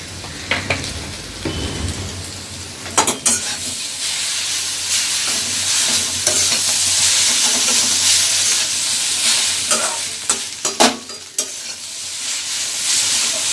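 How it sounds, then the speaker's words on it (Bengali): Egg noodles stirred and fried in a pan of oil, a steady loud sizzle running throughout with repeated scraping clatters of the spatula against the pan, no voices. "এবার বেশ কিছুক্ষণ নুডলসটা নাড়াচাড়া করব"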